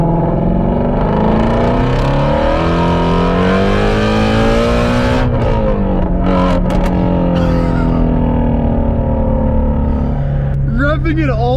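Shelby GT350R or C7 Corvette Z06 sports car engine revving hard toward 8,000 rpm during a full-throttle pull, loud and continuous with rising pitch, a brief lift and shift midway, then climbing again; faint talk underneath.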